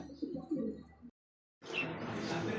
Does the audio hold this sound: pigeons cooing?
yes